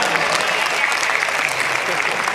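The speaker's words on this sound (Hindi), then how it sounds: "एक बार इनके लिए तालियां बजा दीजिए।" Audience applause at an international mushaira Urdu poetry gathering in Siwan, a dense, steady roar of many hands clapping loudly throughout with some crowd noise mixed in.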